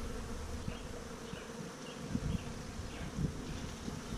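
Honey bees drone steadily around an opened hive during an inspection, a dense continuous buzz close by with individual bees flying past now and then, no voices.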